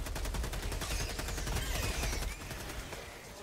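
Rapid automatic gunfire from the video game Helldivers II, a dense, steady burst of loud shots running through the whole moment and easing slightly near the end, with no talking over it.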